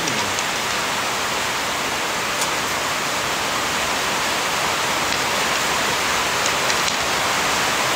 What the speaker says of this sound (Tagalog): Lalakas ng ulan, ewan ko naririnig nyo ako.